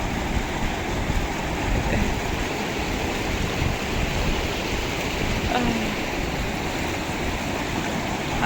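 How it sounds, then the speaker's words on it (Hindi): Flowing river water in Rishikesh rushes steadily throughout, a dense, even wash of moving water and small waves close by, with no break or other clear sound. "सिर्फ लहरों की आवाज आ रही है, बहती हुई लहरें।"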